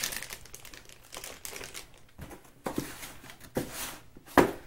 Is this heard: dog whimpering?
no